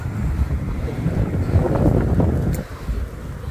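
Wind blows steadily by a riverside in a forest, a loud continuous rushing roar with buffeting against the microphone and no talking over it.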